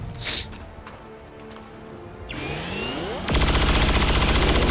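Soldier's gunfire in XCOM 2, a brief whoosh and sweep leading into a loud, sustained burst of rapid shots that holds to the end.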